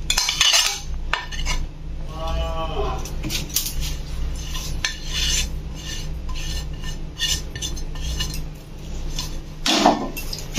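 Ground mustard spice is stirred into mango paste in a bowl, with sharp clinks and scrapes of a metal spoon against the dish coming in bursts, close and fairly loud.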